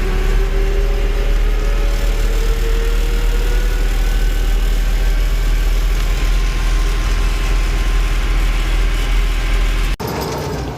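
A farm tractor moving bales runs its engine in a steady, loud, close rumble with a heavy low drone throughout, cut by a sudden drop near the end, with no talking.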